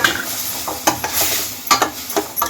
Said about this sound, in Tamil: நல்லா கிளறி விட்டு ஒரு மூடி போட்டு நல்லா வேக வச்சிருங்க.